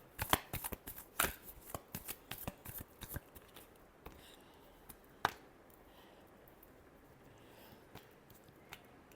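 Tarot cards are shuffled by hand close up in a quick series of crisp riffling slaps for a few seconds, then softer scattered card sounds and quiet handling, with no talk.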